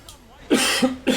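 Two or three harsh, close coughs in quick succession, loud and chesty, with no talking.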